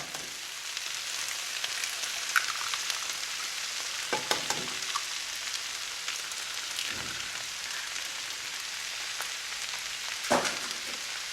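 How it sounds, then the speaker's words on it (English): Two eggs cracked into a small well in the middle of a hot pan of chicken and vegetable rice, frying with a steady, bright sizzle throughout, with a few soft scrapes and clicks of a utensil. "I'm going to crack 2 eggs in there."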